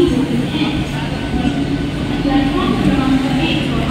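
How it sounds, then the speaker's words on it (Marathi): A Mumbai local train bound for Badlapur stands at platform 1 of a station at night. Its steady rumble and hum carry on under faint background voices. "प्लॅटफॉर्म क्रमांक 1 वर आलेली लोकल 7 वाजून 5 मिनिटांची बदलापूरला जाणारी ही लोकल आहे"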